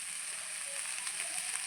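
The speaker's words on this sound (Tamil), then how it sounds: "நாங்கள் சொன்ன அளவுகளோட போட்டு வதக்கி பாற வச்சிடலாம்" Spinach sautéing in a pan for thuvaiyal gives a steady, soft sizzle that holds evenly throughout, with no one talking.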